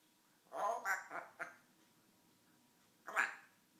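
An African grey parrot mimics a duck's quack: a quick cluster of raspy, nasal quack-like calls, then a single louder call after a short pause, close up in a quiet room.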